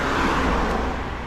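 Steady road traffic on a roadside walk, a continuous broadband rumble of cars passing close by, loud and unbroken for the short stretch with no talking.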